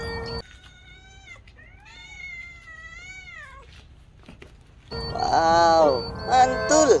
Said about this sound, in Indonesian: Ini kucing teman-teman.